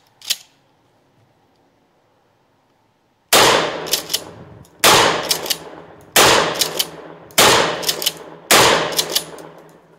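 A Mossberg shotgun fires five loud, sharp blasts at a ranch, spaced about a second and a half apart, each followed by a short ringing echo, after a single earlier click and near silence.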